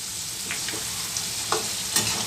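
Crushed garlic with its skins sizzles in hot oil with roasted tindora for a pickle, a steady frying hiss broken by a few sharp scrapes of stirring.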